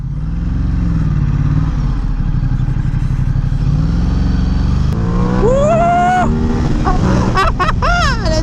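A motorcycle rides along a semi-country road, its engine droning steadily up close, then revving and shifting through several rising pulls.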